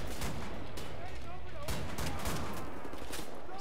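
Gunfire in the shooter Wolfenstein: The New Order, steady shots and bursts running throughout under a busy battle mix, with voices talking over it.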